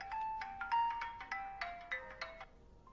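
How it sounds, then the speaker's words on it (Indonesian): A mobile phone ringtone plays a bright, repeating electronic melody of quick chiming notes, close and clear, with no talking over it. "HP bunyi"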